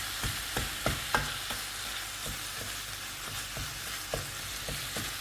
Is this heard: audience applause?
no